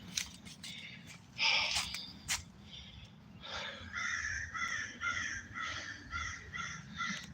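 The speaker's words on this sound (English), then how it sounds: "the crows are telling on me." Several crows caw in a loose series of harsh calls, fairly close, with a steady low background rumble and no talking.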